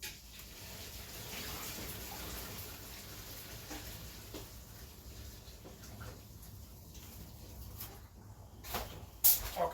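Water from cooked penne pasta pours out through a strainer into a sink, a steady rushing hiss that fades midway, followed by a few clattering knocks near the end.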